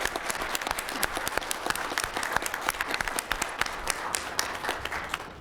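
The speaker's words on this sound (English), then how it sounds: "So could we all applaud?" Council meeting audience applauding: a steady, dense round of many hands clapping, moderately loud and filling the room continuously from start to finish with no talk over it.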